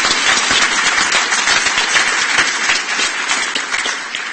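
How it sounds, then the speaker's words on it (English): Steady, dense applause from a conference audience at a sport and mental health event, many hands clapping together at an even level for the full stretch with no voices breaking through. "would they give them a round of applause?"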